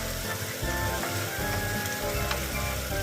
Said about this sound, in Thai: ผัดไปเรื่อยๆค่ะจนกว่ามันจะนิ่ม